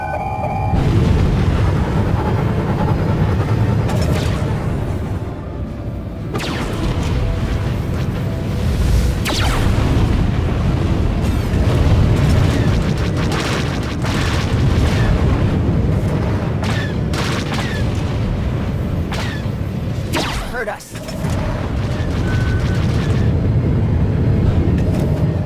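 Space combat in Star Wars: The Old Republic galactic starfighter battle, a dense continuous roar of booming blasts and rumbling engine noise with repeated sharp impacts throughout, loud and unbroken.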